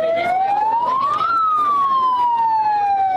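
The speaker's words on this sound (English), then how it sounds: "all of a sudden, a siren sounded" A siren wails at the start of a parkrun in Dover, one loud rising-then-falling electronic tone over a murmuring outdoor crowd of runners.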